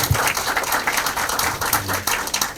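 Audience applause at the launch ceremony of a Democratic Party welfare-state committee in Korea, dense rapid clapping from many hands, fairly soft and steady with slight swells, no talking.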